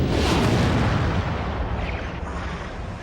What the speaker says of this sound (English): there was the mother of all explosions, the Big Bang